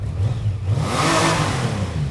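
An 1800 cc motorcycle engine on its original exhaust revs up close by, a steady low rumble swelling into one loud, sustained rev and easing back, with no talk over it.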